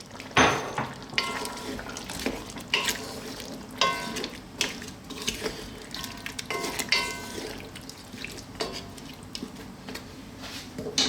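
Chunky potatoes tumble into a pot of Jamaican curry beef, with irregular clunks, scrapes and wet squishing from a spoon against the pot, close up and without talking.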